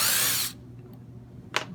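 A power drill bores through two pieces of wood, running loud and high-pitched for about half a second before stopping, followed by a quieter pause and a short second burst.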